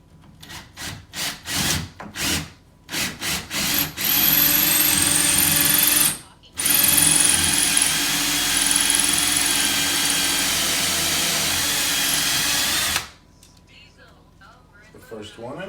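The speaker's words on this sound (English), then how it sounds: "We have our 4 holes drilled." Power drill boring holes into a wall to fit a TV wall mount: several short bursts of drilling, then two long, loud, continuous runs, with a voice talking briefly after.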